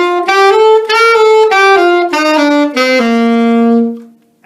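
A saxophone runs down a scale in clear, loud sustained notes, with articulated attacks on alternating notes, ending on a long held low tone that fades out. No voices.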